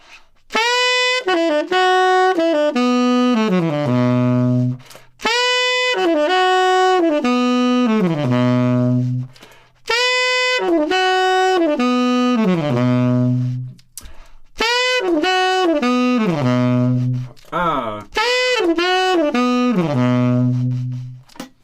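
A tenor saxophone plays a slow descending phrase from a solo, repeated four times with short pauses between, each run stepping down to a held low note.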